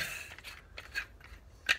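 Bolts being cut to length while building a chrome rear fender on a Honda CG 125 brat-style motorcycle, heard as a few short, sharp, scissor-like snips spaced apart, the last one loudest, close up with no talking.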